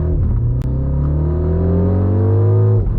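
A 2025 MINI Countryman John Cooper Works accelerating hard on turbo overboost, its loud close engine note rising steadily in pitch through a single gear for about three seconds before cutting off.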